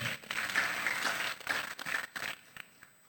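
A church congregation at a GBI Raja Damai Sunday service cheering and applauding, with a short burst of dense clapping that rises and then thins out over a few seconds.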